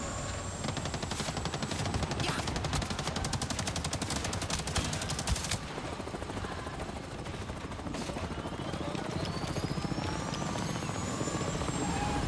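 Helicopter in the video game Avatar Frontiers of Pandora, a loud continuous rotor chop mixed with rapid machine-gun fire throughout, dense and close.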